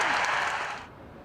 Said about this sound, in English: And his final words brought the biggest cheer